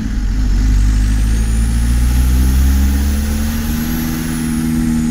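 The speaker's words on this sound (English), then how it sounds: "I don't think the engine's even sounding that good" A Volkswagen TDI diesel engine, down on power and suspected of off pump timing, idles steadily and close by with a loud, continuous low rumble and a slightly harsh edge, no voices over it.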